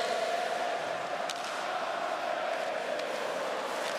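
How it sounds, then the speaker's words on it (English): Slovak ice hockey fans at the 2019 IIHF World Championship clap and sing together in a big arena, a sustained distant crowd chant broken by a few sharper bursts of clapping. "This is the Slovak fans clapping and singing."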